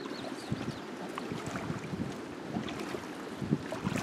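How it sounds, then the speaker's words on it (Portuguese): Strong afternoon wind blows over open water on a fishing trip. The gusts roar and rumble into the microphone, with constant rough buffeting and no voices. "Começou uma ventania agora à tarde."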